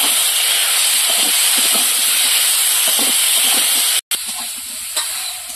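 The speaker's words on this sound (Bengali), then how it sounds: "এবার সবজিটা ভালো করে কষিয়ে নেব।" Vegetables sautéing in a pan with fried shrimp and turmeric for a Bengali chorchori, a loud steady sizzle and hiss with soft stirring scrapes, briefly cut to silence before resuming.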